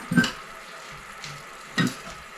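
Sugar syrup caramelizing in a pan gives soft sizzling and bubbling, with two brief clinks or stirring scrapes standing out against the steady low hiss.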